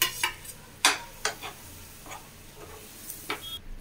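A spoon scrapes and stirs peas into thick mashed potatoes in a pot, with several distinct strokes at an uneven pace, close up and fairly quiet.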